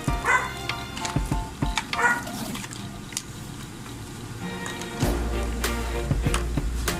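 A pet dog gives a handful of short yips and barks near the microphone, scattered across several seconds over steady household background noise with a low hum that grows louder toward the end.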